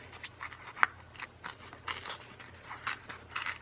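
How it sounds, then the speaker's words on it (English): Fragile craft paper being torn by hand for a junk journal gives a series of short, crisp tearing and crinkling bursts, close up and fairly quiet, with brief pauses between rips. "So I'm just ripping this."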